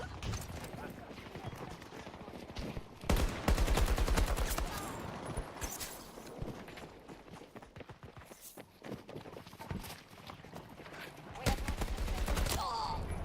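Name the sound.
gunfire in video game Battlefield 2042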